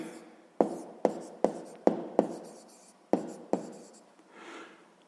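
Pen strokes on paper come as sharp scratchy taps in an irregular rhythm, about seven distinct strokes close up, and then a softer rub at the end.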